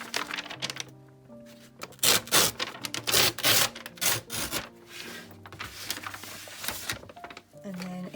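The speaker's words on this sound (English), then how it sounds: "I'm just going to roughly tear that along the middle" Packaging cardboard torn roughly in half by hand, with a few rough ripping and scraping bursts at irregular intervals, close and fairly loud, amid shuffling handling noises.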